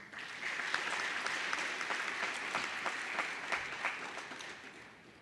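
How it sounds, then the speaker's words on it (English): A graduation ceremony crowd applauds steadily, dense clapping that holds for several seconds and then begins to taper off. "give yourself a round of applause"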